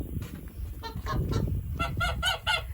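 Angry geese honk loudly in a rapid run of harsh, nasal calls, several birds overlapping close by over outdoor background rumble.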